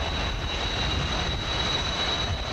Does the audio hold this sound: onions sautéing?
no